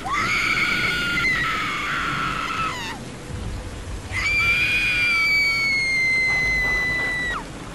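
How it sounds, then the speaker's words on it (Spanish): Woman's harrowing, drawn-out scream for an audio drama, two long shrill wails separated by a short pause, heard over a steady wash of rain. "la mujer pegó un grito muy desgarrador"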